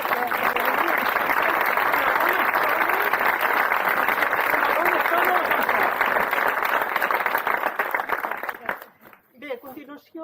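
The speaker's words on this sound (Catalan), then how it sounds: "i un aplaudiment per tots una altra vegada" Audience applause at a cobla concert at Cal Prim, a dense sustained burst of clapping from a crowd that fades out near the end, with some voices mixed in.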